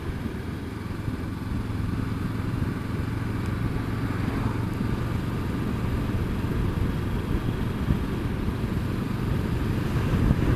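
A motorcycle ridden along a stretch of road, its engine a steady loud drone with wind rush throughout, no voices.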